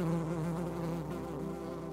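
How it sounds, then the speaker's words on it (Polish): Bumblebees buzz in flight with a close, steady harmonic drone, pitch wavering slightly as they move, alone without voices. "Na szczęście trzmiele nie czytały o tym i latają dalej w najlepsze."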